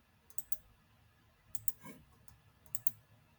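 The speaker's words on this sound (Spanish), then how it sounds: "Le damos clic acá." A computer mouse clicks in three quick double-click pairs over faint background hum, crisp and close, during a Spanish-language online meeting.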